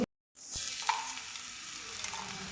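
Brinjal pieces sizzle and crackle steadily in hot oil with masala as they are stirred in a pan, a continuous frying hiss after a brief pause, with occasional scraping.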